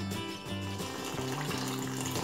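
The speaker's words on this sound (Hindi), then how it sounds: "अब इसमें हम ऐड करेंगे थोड़ा सा पहले पानी" Water poured into sifted refined flour for jalebi batter, a short steady splashing pour over background music.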